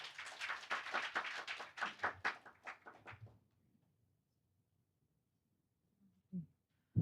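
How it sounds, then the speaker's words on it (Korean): At a Seoul SDG data forum, a conference audience gives a brief, fairly quiet round of applause to welcome a presenter; the clapping dies away after about three seconds, leaving near silence broken by a couple of faint knocks. "앞으로 나오실 때 큰 박수 부탁드리겠습니다"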